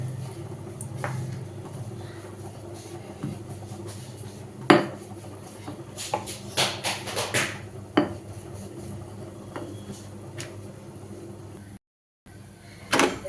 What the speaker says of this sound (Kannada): ಈಗ ಚಪಾತಿ ಒತ್ಕೊತಾ ಇದ್ದೀನಿ ನಾನು